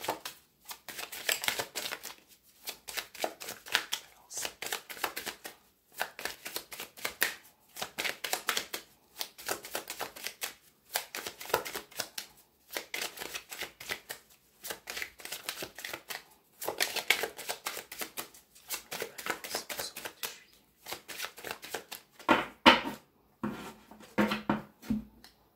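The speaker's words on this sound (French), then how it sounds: "On va mélanger comme ça, puisque ces cartes peuvent se lire à l'endroit et à l'envers." Tarot cards being shuffled by hand in repeated bursts of riffling and sliding, close and crisp, with brief pauses between rounds and no talking.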